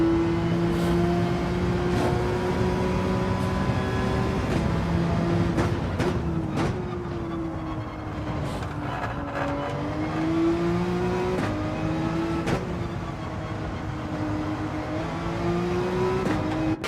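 Race car engine in Gran Turismo 7 on a wet track, a steady droning note that rises and falls as the car accelerates and lifts through corners, continuous and close throughout.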